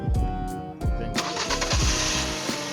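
Car engine with a newly replaced starter cranking and catching after the key is turned, loud and close, with repeated cranking bursts before it fires and settles into a steady idle.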